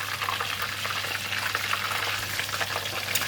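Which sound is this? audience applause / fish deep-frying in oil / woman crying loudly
fish deep-frying in oil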